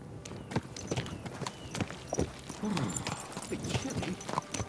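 A horse's hooves clip-clop at a steady walking rhythm in the medieval game Kingdom Come Deliverance 2, crisp close thuds on hard ground with light ambient noise behind.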